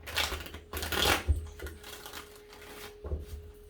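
A deck of tarot cards is shuffled near the microphone in quick riffling bursts with short pauses between them.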